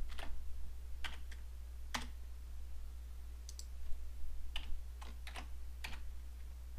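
Fingers type on a computer keyboard in a quiet room, sending out scattered single key clicks and short quick runs of keystrokes over a steady low hum, with no talking.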